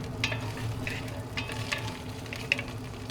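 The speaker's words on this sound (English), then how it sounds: "Fry these until they got a little bit of texture and color on them." Morel mushrooms and green onions fry in a pan with a steady close sizzle, while a utensil stirs and scrapes in a few distinct clacks over the constant hiss.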